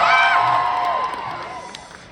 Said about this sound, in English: So can we cheer to get him to get it?